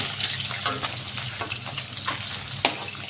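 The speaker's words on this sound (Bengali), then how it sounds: "এভাবে বাকিগুলোও ভেজে নিচ্ছি" Pieces of rohu fish fry in hot oil with a loud, close, steady sizzle and fine crackling spits, plus a few light utensil clicks and one sharper pop toward the end.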